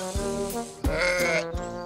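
Sheep bleating on a family farm, several overlapping bleats with wavering harmonic tone, fairly close and steady across the clip.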